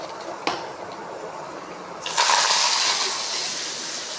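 Onions dropped into hot oil for a drumstick-leaf soup burst into a loud, continuous sizzle that begins suddenly and then settles into a steady hiss close by.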